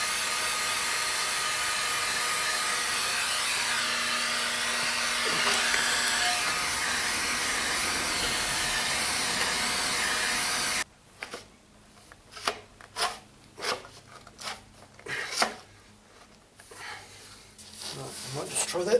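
A heat gun blows a steady, loud broadband hiss onto a cheap plastic motorcycle stone guard to bend it, then cuts off, leaving scattered handling clicks and knocks.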